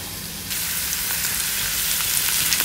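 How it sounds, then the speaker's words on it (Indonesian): Garlic and tomato drop into hot oil, and a loud, dense sizzle jumps up and keeps going with crackling pops. "Panasin minyak. Masukin bawang. Masukin tomat."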